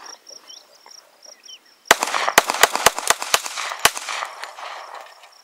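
A Colt Commander 1911 pistol fires about seven sharp, loud shots in an uneven sequence, with insect chirps in the background before and between them.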